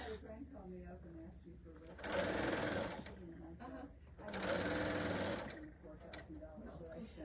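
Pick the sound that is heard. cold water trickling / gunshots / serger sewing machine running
serger sewing machine running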